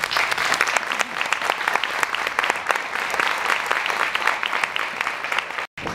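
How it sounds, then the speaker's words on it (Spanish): Lecture audience applauding at a talk on vampirism and archaeological finds, a dense steady patter of clapping hands that holds for several seconds, then breaks off briefly before resuming. "Más aplausos porque se los merece."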